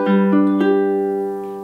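Ukulele fingerpicking pattern for a song, with plucked notes ringing close and clear, a few soft attacks over sustained tones, played solo with no talking.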